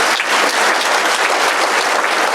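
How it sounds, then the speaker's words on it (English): A room full of people applauds at a Chamber of Commerce women's achievement awards event, dense sustained clapping that is loud and even throughout. "Let's give them a round of applause"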